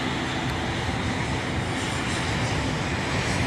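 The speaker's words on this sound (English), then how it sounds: "a live flight coming in with the Challenger next from Port Moresby here on runway 19 and left" A Challenger business jet arriving on runway 19 left at Brisbane Airport, a continuous broad roar of jet engine noise, steady and fairly loud throughout with no clear rise or fall, no voices.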